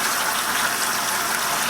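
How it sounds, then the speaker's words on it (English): Warm water runs from a tap into a wine fermenter in a steady, loud, broadband gush with no pauses or voices. "I'm going to put some warm water in here from the tap, probably about half a gallon."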